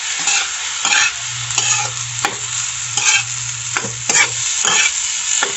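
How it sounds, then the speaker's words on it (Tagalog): Egg fried rice with soy sauce being stirred in a pan, a continuous close sizzle punctuated by regular rhythmic scrapes and knocks of the spatula about once a second, with no voices. "Kaya haluin natin maigi."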